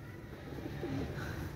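Pigeons kept for sale, a Pakistani pigeon pair, coo softly in a short low burst, fairly quiet against steady background noise.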